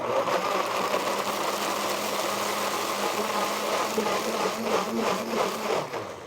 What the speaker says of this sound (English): I have my blender on about half speed.